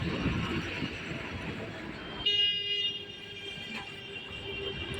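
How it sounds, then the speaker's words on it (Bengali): A metro train at a city metro station in Kolkata, heard close as a steady rumbling rush of wheels and motor, shifting at mid-clip to a brighter tonal whine with a high electric hum as it runs past. "আমাদের বাড়ি থেকে বেরোলে একটু হাঁটলেই দেখো একটা মেট্রো স্টেশন"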